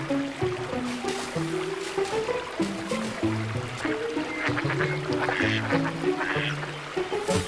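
Several ducks quack repeatedly in a lively, overlapping chorus, with a faint trickle of water underneath.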